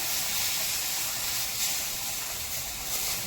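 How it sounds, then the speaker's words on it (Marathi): Half a litre of milk poured into hot browned semolina in a pan, giving a strong steady hiss of sizzling steam that stays loud and continuous without a break. "यामध्ये दूध घालत आहे एक गिलास म्हणजे अर्धा लिटर दूध घातलेलं आहे"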